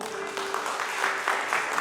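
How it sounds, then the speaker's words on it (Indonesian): Applause from a church congregation at a Sunday worship service, a steady wash of many hands clapping throughout, with a sustained tone and some voices underneath. "Tepuk tangan untuk Tuhan dong."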